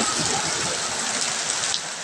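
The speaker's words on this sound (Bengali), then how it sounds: "প্রচুর বৃষ্টি হইতেছে এভাবে সারা রাত বৃষ্টি হলে" Heavy rain falls at night near a village market in Kishoreganj, a dense, constant broadband hiss of steady downpour with no pauses.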